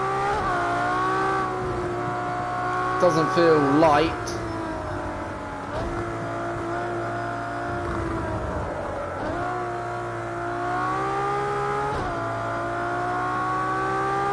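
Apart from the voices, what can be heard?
race car engine revving in a racing video game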